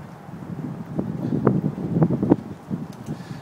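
Gusting wind outdoors buffets the microphone with a rough, uneven rumble that swells and fades over a few seconds, heard alone with no voices.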